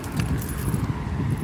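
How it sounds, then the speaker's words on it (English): Car keys jangling and clinking as they are tossed onto a car seat, close and fairly loud over a low vehicle rumble. "I do need my car keys, so I threw my car keys on the seat"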